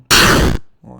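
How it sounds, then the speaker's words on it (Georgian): A single loud, booming video game explosion sound effect, heard as enemy damage, bursts out for about half a second, then cuts off, followed by a brief low murmur. "ეს ძალიან აფეთქებები არის დიდი."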